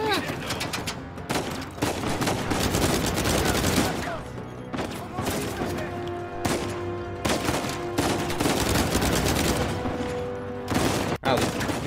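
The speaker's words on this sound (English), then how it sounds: "Guns definitely have a louder sound to them. They're much more realistic than the previous games." Dense bursts of gunfire from the video game Uncharted 4 keep going throughout: rapid volleys and single shots overlap with booms and game effects, loud and close.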